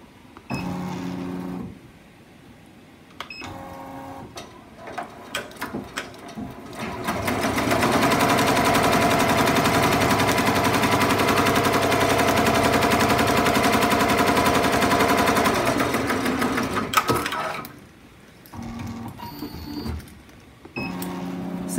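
A Ricoma MT-1501 embroidery machine stitches an appliqué pocket onto a shirt, running loud and steady for about ten seconds with a dense rapid chatter. Quieter handling noises come before and after the run.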